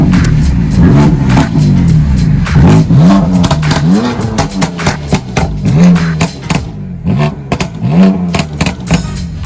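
A Honda Si car engine revs loudly and close in repeated rising and falling bursts, the pitch climbing and dropping several times before breaking into shorter blips toward the end.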